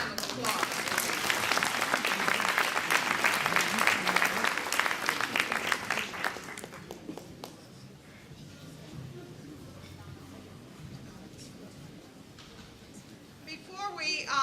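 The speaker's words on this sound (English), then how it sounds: "Let's give the senator another round of applause." A gala audience applauds a senator at an evening political dinner, loud sustained clapping for about six seconds that fades into quieter crowd murmur and shuffling, with a brief swell of clapping returning at the end.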